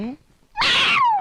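A cat gives one drawn-out, loud meow with a falling tail, following a short bit of voice and a brief quiet gap.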